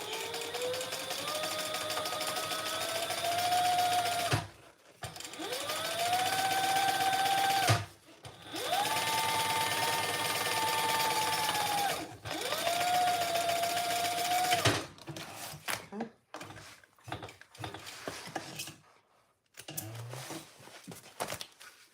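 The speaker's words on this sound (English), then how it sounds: "that seam we just created is up towards the top under our underlining, and we're going to top stitch" Close by, a sewing machine top stitches a seam on a Simplicity dress pattern in four long runs, each a steady motor whine that speeds up then holds, followed by short stop-start bursts and brief pauses.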